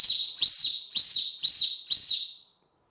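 A Thrunite titanium whistle is blown hard in five long, piercing shrill blasts with short gaps between them, very loud and close, with no voices.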